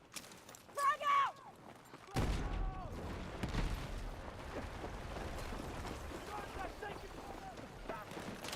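A frag grenade goes off in Battlefield 6 as one heavy, booming blast, followed by steady rumbling battle noise and scattered gunfire, with voices talking over the game.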